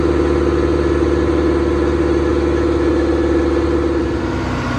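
Toyota MR2 SW20 engine idling steadily with an even, continuous hum, loud and close, with no talking over it.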